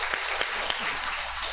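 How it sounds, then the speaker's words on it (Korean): A congregation claps during a Sunday morning church service, filling the space with a dense, even wash of applause and a few sharper individual claps standing out. "우리 하나님께 영광의 박수를 돌립니다."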